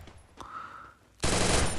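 Free Fire battle royale gunfire: a faint shot early, then a sudden loud, sustained burst of rapid automatic fire filling the end.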